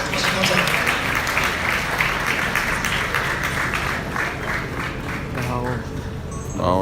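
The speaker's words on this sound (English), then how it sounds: "Please, a round of applause for her." A crowd applauds at a graduation ceremony for the Royal Prince of Asanteman, a steady wash of clapping that carries through the whole stretch and fades slightly near the end.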